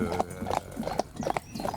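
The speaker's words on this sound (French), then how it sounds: "je le longe un petit peu, je prépare un peu le cheval" A draft horse's hooves clip-clop in a quick, steady rhythm as it is lunged in a circle, close and distinct, with a faint voice in the background.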